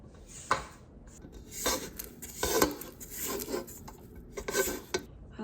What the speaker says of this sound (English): I like to scrape down the bowl and the beater at basically every step of the mixing process.